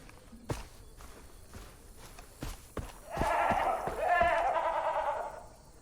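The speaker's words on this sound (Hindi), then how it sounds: "बकरी है" A goat bleats in the open-world shooter Far Cry 3, a wavering cry that repeats twice in the second half over sparse footstep-like thuds and light game ambience.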